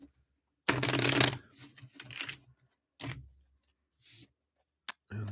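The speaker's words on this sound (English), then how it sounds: "Let me shuffle these up here." Tarot cards are shuffled by hand in a quiet room: one long riffling burst, then several shorter crisp shuffles and taps spaced out over a few seconds, close to the microphone.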